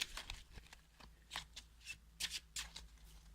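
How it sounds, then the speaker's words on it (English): A deck of tarot cards is riffled and shuffled close up, giving a quick series of soft papery flutters and snaps with no talking. "Shuffle the cards again."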